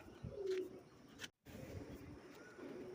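Pigeons cooing nearby in soft repeated calls over a low background, with a brief silent gap midway before the cooing resumes.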